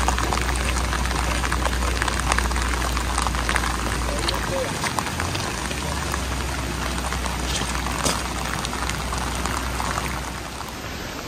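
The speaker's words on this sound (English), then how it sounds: "It rains and it stops and it starts raining again." Steady rain pours down in Norway in a dense, continuous hiss with scattered drip-like clicks, loud and close throughout.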